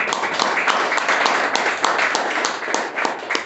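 A church congregation claps and applauds steadily and loudly together at a worship service, a dense sustained crackle of many hands with no break.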